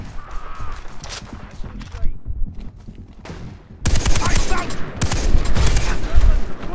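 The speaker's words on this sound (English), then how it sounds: "There's a guy shooting you from behind." Rapid gunfire from Far Cry 3 co-op play, loud bursts and volleys crackling together, heavier and denser in the second half, with some speech and game noise mixed in.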